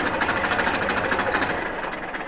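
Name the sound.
Massey 241 tractor engine self-starting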